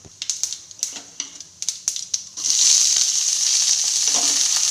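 Finely sliced onions drop into hot oil crackling with mustard seeds and cumin, first a run of sharp popping bursts, then a steady loud sizzle of frying that fills the rest, with no talking.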